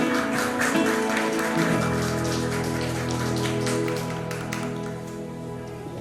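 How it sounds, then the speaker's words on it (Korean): A congregation at a Sunday church service claps in dense, patter-like applause over sustained keyboard tones, gradually softening toward the end. "감사의 박수를 올려드리겠습니다"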